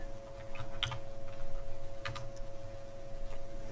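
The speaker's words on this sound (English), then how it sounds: "I'm going to go in here and just type in Compton just to see." Typing on a computer keyboard: scattered light key clicks over a steady low hum, close and fairly quiet, no talking.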